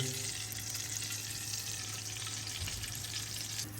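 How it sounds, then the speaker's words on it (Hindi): Sliced onion frying in desi ghee, a steady dense sizzle with soft crackle, close and continuous throughout with no voices. "इसमें जाएगा ये प्याज, हल्का ब्राउन होने तक जो है हम इसी तरीके से करेंगे"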